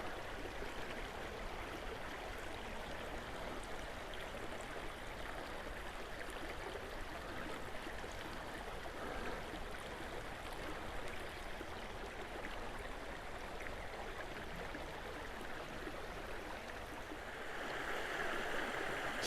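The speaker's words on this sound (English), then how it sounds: "I love that sound of the water." Steady rushing of a stream flowing over rocks in a gorge in James Kennedy State Forest, a constant broadband wash of water that holds even throughout with no voices.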